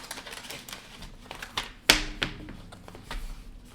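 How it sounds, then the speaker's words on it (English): Paper handling as a trading card is slid into a plain white envelope: a quiet run of light taps and rustles with one sharp snap of paper in the middle, close up, with no talking. "now I will put the card, nicely packaged, into the plain white envelope"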